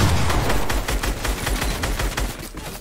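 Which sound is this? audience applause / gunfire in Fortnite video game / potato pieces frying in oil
gunfire in Fortnite video game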